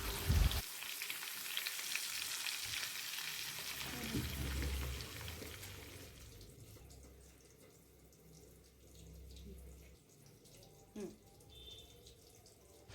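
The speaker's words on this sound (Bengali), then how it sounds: "যতক্ষণ আলু ভাজা হচ্ছে" Potatoes fry in oil in a home kitchen with a busy hiss that fades after several seconds, followed by quieter handling and running-water noises nearby.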